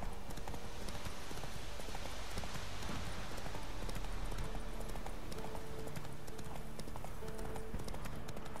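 Horse hooves clip-clop steadily in the video game The Witcher 3: Wild Hunt, a close, even rhythm of hoofbeats running continuously over a dense background ambience.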